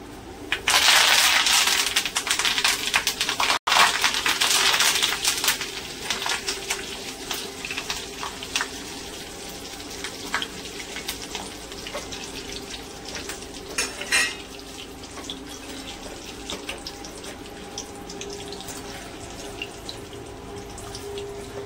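Curry leaves fry in hot oil in a pan with continuous sizzling and crackling, loudest at first and then settling. Occasional stirring clinks are heard, with no talk.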